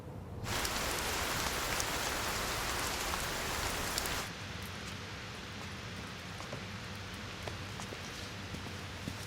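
Rain falling on a city street, a loud steady downpour hiss that drops suddenly to a softer, even patter of drops about halfway through, with no voices.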